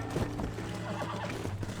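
Horse whinnying while being tamed in the video game Red Dead Redemption, a short neigh over a dense, steady game soundscape with faint hoof clatter.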